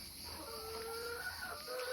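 Several hens on a farm cluck and murmur nearby in a short burst as they fill into crates, their soft calls overlapping against a steady background hum.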